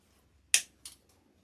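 A zip tie is trimmed while crafting an adorable Highland cow figure: a sharp close snip followed by a second, softer cut and a faint tick, with no talking.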